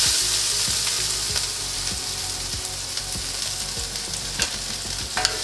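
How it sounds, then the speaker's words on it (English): Onion, garlic, red pepper and ginger fry in vegetable oil over medium heat, with a steady bright sizzle and a run of repeated soft stirring knocks against the pan. "so let's cook the onion, garlic, red pepper first, and the ginger."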